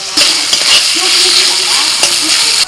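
Onion, ginger and garlic paste fry in a pan for a loitta fish curry, giving a steady close sizzle with a few soft stirring scrapes and clinks throughout.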